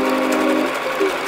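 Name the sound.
sewing machine stitching canvas yoga mat bag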